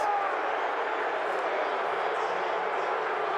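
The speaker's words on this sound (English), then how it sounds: "And you're hearing the crowd react." A football stadium crowd at an XFL game, Seattle Sea Dragons at St. Louis BattleHawks, roars after a punt return, as a loud, steady, dense wash of many voices that fills the whole clip.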